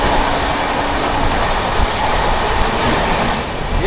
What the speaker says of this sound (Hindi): ओवरटेकिंग दिल्ली गया स्पेशल।